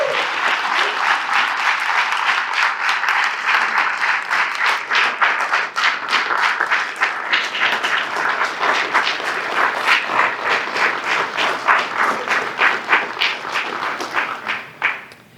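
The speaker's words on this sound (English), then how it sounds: "How about a round of applause for all of our honorees?" A school athletic hall of fame audience gives the honorees a sustained round of applause, dense and even clapping from a large indoor crowd that holds steady and then tapers off at the end.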